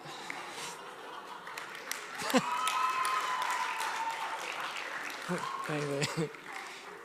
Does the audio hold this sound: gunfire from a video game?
no